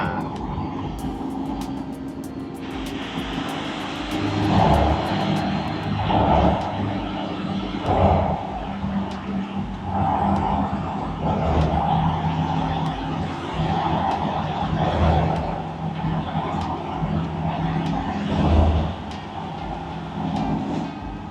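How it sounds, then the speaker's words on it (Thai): Old car engine climbing a hill in fourth gear, a steady loud drone with rhythmic surges and road rumble throughout, heard from inside the cabin with no talk. "ขึ้นเนินสบายเลยนะเนี่ยเกียร์สี่กำลังยังมี"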